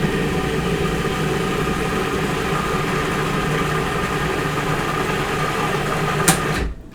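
Blender or food processor blending bananas for vegan gingerbread cookies, a steady loud motor whir running continuously, then cutting off abruptly near the end.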